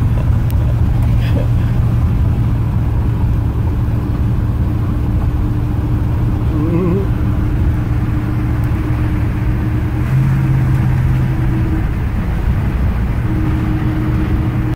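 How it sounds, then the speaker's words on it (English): A 1957 Chevy Nomad, driven for the first time after 28 years abandoned, rolls along with a steady, loud low engine drone and road rumble throughout, with faint voices under it. "driving it for the first time after 28 years and it still feels like a freshly restored car"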